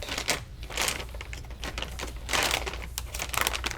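Electrostatic packaging around an EVGA GeForce RTX 2080 Ti XC Ultra graphics card is pulled open, producing close, continuous crinkling and tearing of plastic film with a few sharper crackles.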